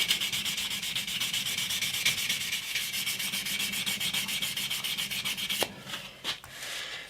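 Close, rhythmic back-and-forth rubbing of 600 grit sandpaper on electric guitar frets, quick even strokes that stop after about five seconds, followed by a few isolated scrapes.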